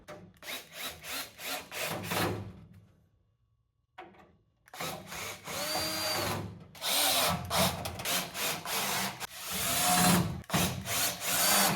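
A power drill whines in repeated loud bursts with a brief pause, biting and grinding through wood at close range.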